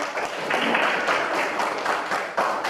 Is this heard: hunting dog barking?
no